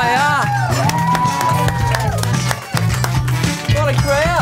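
Studio audience at a comedy variety show cheering, whooping and clapping loudly as the host comes on, with music playing underneath.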